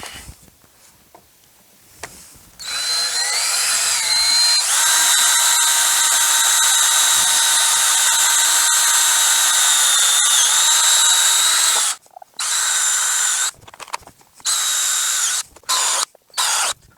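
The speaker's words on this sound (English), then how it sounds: "I'm going to do all the pilot holes and then I'll do the big holes." A power drill bores pilot holes into a washing machine drum being turned into a chicken plucker, whining steadily for several seconds, then running in shorter bursts separated by pauses, close and loud.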